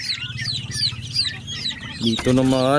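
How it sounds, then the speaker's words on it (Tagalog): Turkey and chicken chicks peep in quick repeated chirps close by, with a soft clucking bird and a brief harsher call near the end. "Apat na sisiw na pabo. May kasamang sisiw na manok."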